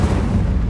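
The Incendio fire spell is cast in Hogwarts Legacy: a brief, heavy, low-pitched whoosh and boom that hits loud and close, then fades within a second.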